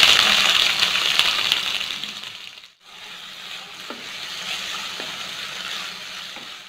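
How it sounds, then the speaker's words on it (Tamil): Chopped onions frying in oil with cinnamon and fennel seeds for an egg gravy make a steady sizzle that fades, stops briefly, then resumes more quietly with a few soft spoon knocks, and no one speaks. "வெங்காயம் நல்லா வதங்கிருச்சு"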